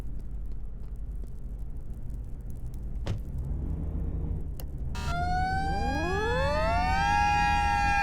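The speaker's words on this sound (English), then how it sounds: "That's my siren and lights, and I've done the siren packs." A fire truck siren in the game Flashing Lights starts abruptly and winds upward into a loud, sustained wail over a low engine rumble, after a few sharp clicks.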